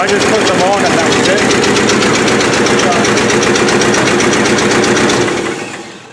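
A Rolls-Royce engine with a newly fitted muffler and badly adjusted carburetors idles loudly and steadily with a slight miss, a dense rhythmic rumble that fades out near the end.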